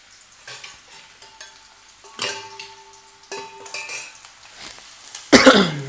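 Onion stirred in hot oil with the gas turned low: soft, intermittent scraping and clinks of a utensil against the pan, with a sharper burst of sizzling near the end.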